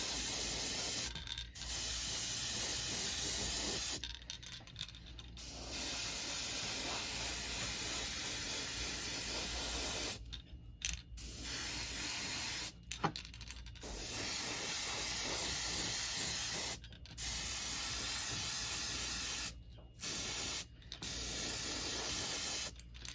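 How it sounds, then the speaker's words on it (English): Steady, hissing airbrush spray runs in long bursts, broken by several short pauses where the air cuts off, close and fairly loud. "this airbrush does spray really good"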